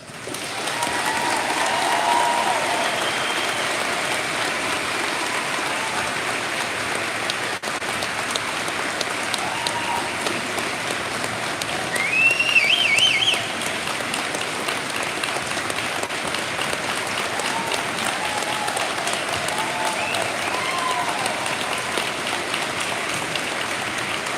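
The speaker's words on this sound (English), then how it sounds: "ask that you all give him a big round of applause" A large crowd applauds at the 2025 Jim Thorpe High School graduation, a long, even, rain-like roar of clapping that swells briefly midway and continues steadily for over twenty seconds.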